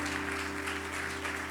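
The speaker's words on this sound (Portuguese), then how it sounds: "Vamos aplaudir mais forte o Senhor." Church congregation clapping harder, a thick, continuous roar of many hands at full strength with a steady tone humming beneath and no break throughout.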